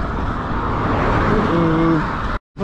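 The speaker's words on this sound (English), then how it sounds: "Fast cars!" Fast cars pass on a country road, a loud, close roaring rush of tyre and engine noise building and fading, heard from a gravel bike ride, ending abruptly.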